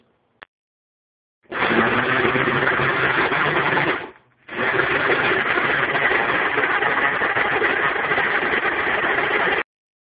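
A blender whirs at steady high speed crushing ice, fresh fruit, sorbet and cream into a smoothie, running loud for a couple of seconds, pausing briefly, then resuming for about five more seconds before cutting off.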